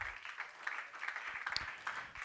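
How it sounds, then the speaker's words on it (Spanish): Church congregation claps along during a Spanish-language service, a steady patter of many hands continuing briefly at moderate distance. "Dale palmas al Señor."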